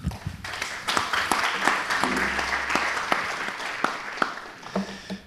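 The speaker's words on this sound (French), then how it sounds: "on vous applaudit" Moderate audience applause at a public forum, a smaller group clapping with distinct individual claps audible, steady for several seconds with occasional brief murmurs underneath.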